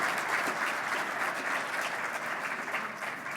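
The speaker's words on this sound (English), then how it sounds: "I just wanted to hear the applause before I missed that opportunity." Sustained applause from a dinner audience at an annual dinner and keynote event, steady and dense throughout with no speech over it.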